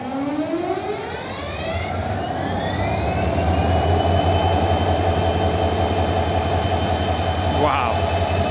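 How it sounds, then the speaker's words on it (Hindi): A WDP4D EMD diesel locomotive starts up, its engine note rising steadily in pitch and building into a loud, continuous rumbling roar heard up close. "आप लोग देख रहे हैं WDP4D EMD का स्टार्टिंग प्रोसीजर।"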